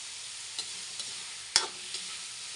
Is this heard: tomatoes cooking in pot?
yes